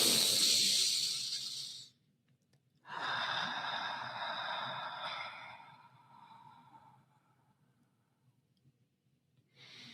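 Two slow, deep breaths drawn close to the mic, each a long airy hissing inhale or exhale lasting a few seconds, separated by near silence, with another breath starting at the very end.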